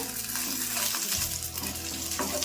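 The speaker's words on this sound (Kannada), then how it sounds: "ಇವಾಗ ಇದನ್ನ ಸ್ವಲ್ಪ ಫ್ರೈ ಮಾಡ್ಕೊಂಡ್ಬಿಡೋಣ" Cashews and green chilies frying in hot oil in a pan, a dense, loud crackling sizzle up close with scattered stirring clinks, no voices.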